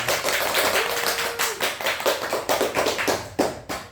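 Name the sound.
class clapping hands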